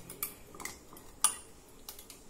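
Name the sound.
stirring salted hog plums in a jar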